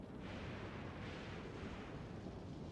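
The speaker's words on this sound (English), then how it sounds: "Now, here in a second, we should see 7 rocket silos launch." Several rocket silos launching together in Factorio Space Age, a sustained loud rumbling roar with broad noisy energy that swells and holds steady throughout, with no voices.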